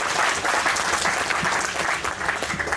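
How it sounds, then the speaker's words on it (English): At the BTCC Thruxton race meeting, a crowd gives driver Nick Hamilton a round of applause, loud dense clapping with a few cheers, close and sustained. "A round of applause for Nick Hamilton."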